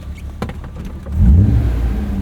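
A 1998 BMW E36 M3 sedan's engine rises into a loud, close rev after a quieter idle, a deep swelling roar that holds steady to the end.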